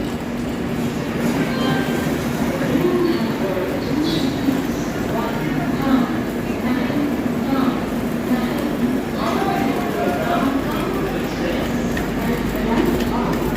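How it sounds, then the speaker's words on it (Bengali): A passenger train pulls out of a station platform, its continuous low rumble and wheel clatter filling the scene while nearby people talk over it and a bird chirps faintly. "বৌদিরা ট্রেনে উঠে গেল, এখনই ট্রেনটা ছেড়েও দেবে"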